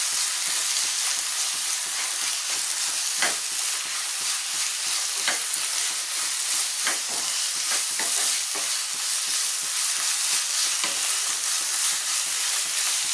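Bottle gourd halwa with jaggery fries in a pan while being stirred, giving a continuous close sizzle with repeated soft scraping strokes throughout and no voices.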